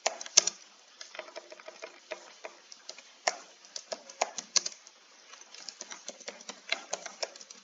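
Keyboard keys clatter in quick irregular bursts as Java code is typed on a computer, each keystroke a sharp close click with brief pauses between runs.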